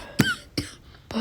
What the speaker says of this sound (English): that triggers her cough.